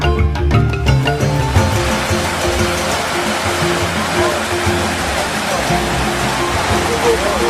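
Waterfall at Thong Pha Phum National Park in Kanchanaburi cascading over rocks: a loud, steady, broadband rush that stays close and continuous, with a voice briefly audible at the start.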